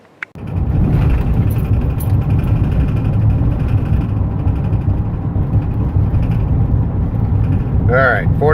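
A car cruising at 45 miles per hour after its front wheels were moved to the back to cure a steering wheel wobble, giving a steady, loud low road and engine rumble throughout, with a brief voice near the end.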